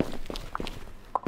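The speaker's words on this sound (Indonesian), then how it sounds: "tadi suara ketukan kakinya itu, ketukan sepatu heelsnya, itu seperti di sebelah gua." High-heeled footsteps in the horror game Akkai Onna, a few sharp taps close by, spaced unevenly over a quiet, low background.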